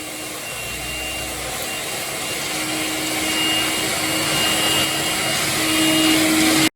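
A Makita XLC02ZB 18V cordless vacuum fitted with a Cyclone attachment runs steadily, a loud, continuous motor whine with airy suction noise that holds a constant pitch and gradually rises slightly in level.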